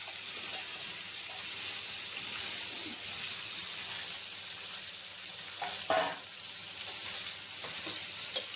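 Fatty mutton fries in a pan with a continuous, quiet sizzle, and an occasional stir or scrape breaks through near the middle.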